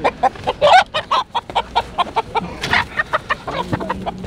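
Roosters and chickens at a poultry market cluck and squawk in quick, loud bursts close by, with a brief crow-like call among the clucking and a faint voice in the background.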